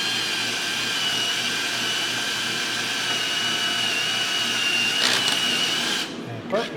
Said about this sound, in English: So I'm going to first use a step drill and get in my center